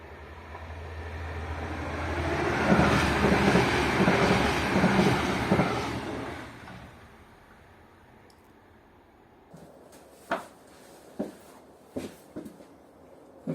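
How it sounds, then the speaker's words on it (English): A train rolls past a railway cottage, its rumble swelling over a few seconds and then fading away, followed by quieter surroundings with several sharp knocks and clicks nearby. "here is a train."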